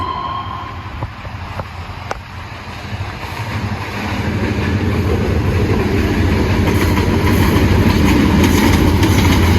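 A train rumbles past with steady rolling noise and rail clatter, growing louder and then holding as a continuous roar.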